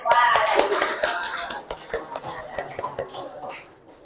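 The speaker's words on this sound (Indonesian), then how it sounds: "Tepuk tangan." Scattered clapping in a classroom presentation session, starting fairly dense and loud, then thinning into irregular sparse claps that fade out, with faint murmuring voices in the background.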